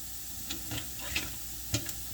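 Crab leg clusters simmer and boil in a seasoned pot for seafood gumbo, giving a steady close bubbling hiss with a few small pops and clicks.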